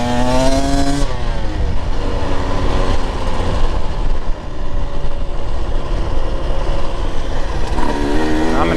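A Husqvarna TE 150 TBI two-stroke dirt bike climbs a hill in fourth gear, its loud, close engine droning steadily with pitch sweeps as it revs at the start and again near the end.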